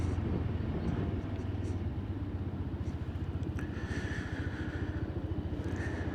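A motorcycle riding along the A62 road in Huddersfield, a steady low engine drone with passing traffic, heard beneath a rider talking.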